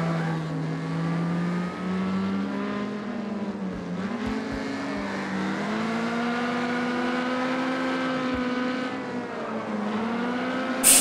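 Race cars roaring in the Wreckfest video game, a loud continuous engine whine climbing and dipping through gear changes, with several engines layered together and a brief crash burst at the very end.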